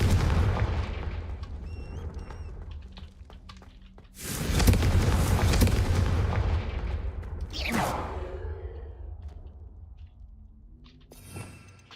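Fiery Confringo spell blasts boom in the video game Hogwarts Legacy, with a big explosive burst near the middle followed by a whooshing impact and a smaller later blast, over rumbling game ambience.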